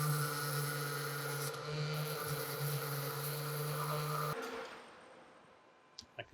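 A random orbital sander polishing a metal band saw part hums steadily and close, with a tonal whine, then winds down and stops, leaving a few light ticks and taps.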